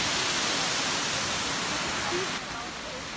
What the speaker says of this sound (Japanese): はい、そしてこれがメインの滝です。